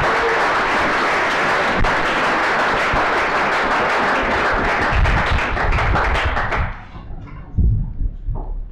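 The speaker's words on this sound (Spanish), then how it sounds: "Así que un fuerte aplauso a los que lo hacen y logran transmitirlo." Dense, loud audience applause at a homebrew beer awards gala fills the room for several seconds, then breaks off abruptly into a few scattered claps and thumps.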